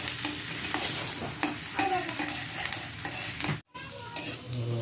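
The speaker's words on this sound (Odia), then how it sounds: "ଟିକେ ରେଡ୍ ଟିକେ ବ୍ରାଉନ୍ ହେଲା ପର୍ଯ୍ୟନ୍ତ ଭାଜିବା।" Continuous sizzling of egg chop frying in a pan with frequent scraping stirs of a spatula, loud and close, with a brief pause near the end.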